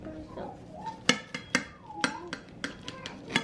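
A knife cuts a kale wrap in half on a hard surface, producing sharp repeated clicks and taps that sound close and fairly faint.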